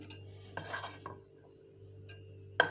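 A spoon stirring a chicken and vegetable sandwich filling in a bowl, with a few soft scrapes and taps spread out and one sharper clink at the end, quiet and close with no voices.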